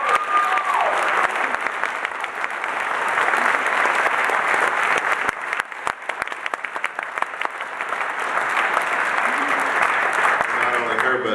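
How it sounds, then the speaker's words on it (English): Audience applause following a jazz concert performance, a long, steady wash of many hands clapping that holds loud for the whole stretch and swells slightly near the end, with a few voices faintly mixed in. "I think we should clap."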